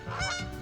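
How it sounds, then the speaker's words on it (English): Canada geese give a short, loud honk close by, a single nasal burst with no talking. "A flock of Canadian geese fly past in a huge V pattern."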